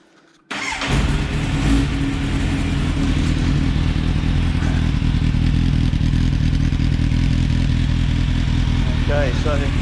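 A 2003 Kawasaki Z750 fitted with an IXIL dual under-seat exhaust fires up after a moment of quiet and then idles loud and close with a steady rumbling clatter.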